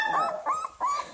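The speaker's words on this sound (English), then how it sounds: "Oh, goodness, baby dog." A 3.5-week-old bluetick coonhound puppy whimpers and whines in several short, high, wavering cries, close and fairly loud, with a brief louder yip at the end.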